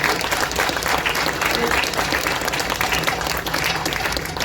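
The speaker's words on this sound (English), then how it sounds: "Greg really deserves some applause" A crowd at the dedication of a rail park breaks into loud, close, sustained clapping that holds steady throughout, with a bit of crowd murmur mixed in.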